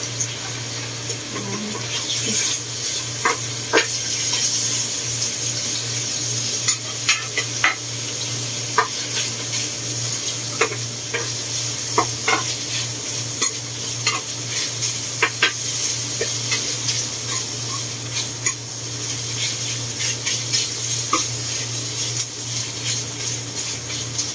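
Ground meat fries in a pan for ampalaya with egg, with ginger, garlic and onion. It gives a steady close sizzle with scattered scrapes and stirring clicks from the utensil throughout.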